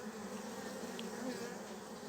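A dense, steady buzz of many honeybees on a comb close by, humming continuously without pause.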